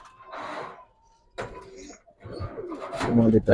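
Giribaz pigeons, a silver colour variety, coo in short bursts at close range, with people talking in between and over the calls.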